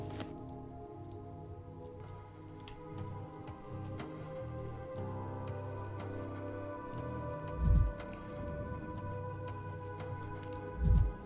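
Steady rain patters across surfaces in the video game Pathologic 3, set against a low, moody musical drone. Two heavy, low thuds land near the end over the continuous wet hiss.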